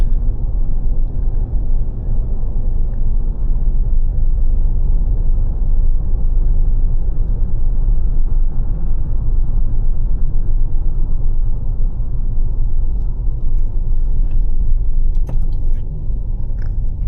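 A 2020 GMC Yukon Denali with a 6.2 liter V8 and 10-speed transmission cruises along, heard from inside as a steady, smooth low rumble of engine and road noise with no voices.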